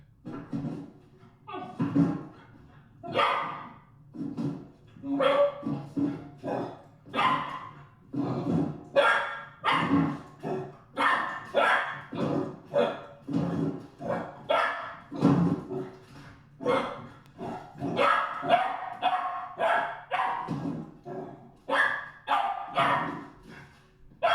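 A puppy barks and yips repeatedly in quick, irregular bursts, close and fairly loud, with short growly sounds among the barks and no talking over it.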